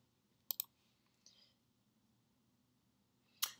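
A computer mouse clicks as the Save button is pressed. Crisp double clicks sound close and quiet over near silence, with a second click pair at the end.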